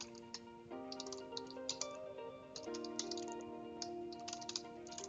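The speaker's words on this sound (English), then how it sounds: "I simply type in my URL." Quiet clicking of a computer keyboard as a URL is typed, a quick irregular patter of key taps under a steady tonal hum, with no voices.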